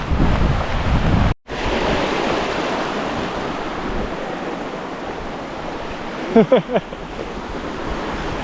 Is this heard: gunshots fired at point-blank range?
no